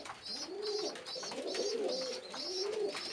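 Pigeons coo in their nests in a loft, repeated soft throaty rolling calls in a steady rhythm, close and alone.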